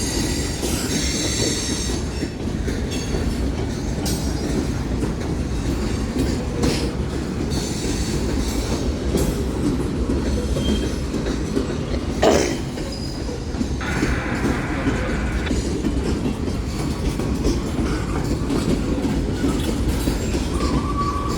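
CSX freight train with steel coil cars rolling eastbound, loud and close, with continuous wheel rumble, clickety-clack over rail joints and occasional squealing of wheels for the whole stretch.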